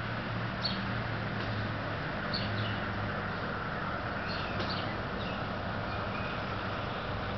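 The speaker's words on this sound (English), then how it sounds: "Birds are outside chirping right now." Birds chirping outside in winter: a few faint, short, high chirps come at intervals over a quiet, steady outdoor background hum.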